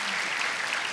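A studio audience at a televised singing competition applauds a duet, a short, dense burst of clapping that stays steady and fairly loud for about a second.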